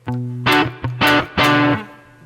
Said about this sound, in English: And then we go to the boost, which is the Klon Centaur.